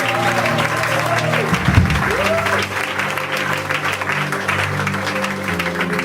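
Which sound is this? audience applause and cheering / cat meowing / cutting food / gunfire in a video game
audience applause and cheering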